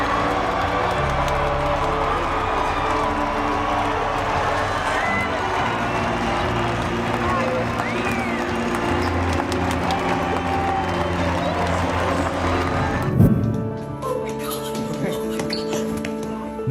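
A large crowd cheers and claps as a soldier proposes to his girlfriend, a loud, dense roar of whoops and applause with voices mixed in, then an abrupt drop to quieter murmuring near the end.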